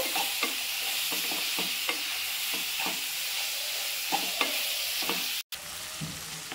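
A chicken filling is sautéed in a pan under a steady hiss of sizzling oil, punctuated by regular scrapes and taps of a spoon stirring against the pan, close and alone.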